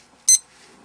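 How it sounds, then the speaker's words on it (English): A poker tournament dealer button with built-in blinds timer gives a single short, loud electronic beep, standing alone against near silence. "This button will beep once when there is 60 seconds remaining in your level"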